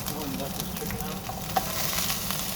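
Chicken cooks in a pot for Filipino tinola, giving a steady, close sizzle and bubbling that runs without a break, with a single small clink partway through.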